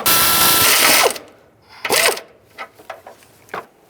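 Transmission mount bolts on a 2010-2017 Chevrolet Equinox are run down with a ratcheting power tool: a loud sustained buzzing burst, a second shorter burst, then a few quiet clicks and taps nearby.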